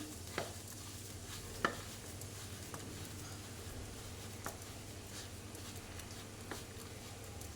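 A spoon scrapes and clicks around a bowl of spice mix with oil in a slow, irregular rhythm over a low steady hum, with no voices.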